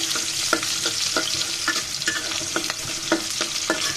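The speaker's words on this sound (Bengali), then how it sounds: "হালকা করে ভেজে নেব পেঁয়াজ আর রসুনকে, বেশি লাল করবো না।" Onion and garlic frying in hot oil, a steady close sizzle with regular scraping stirs of a spatula every half second or so, no voices.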